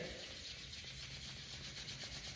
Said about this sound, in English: So back to rubbing the palms.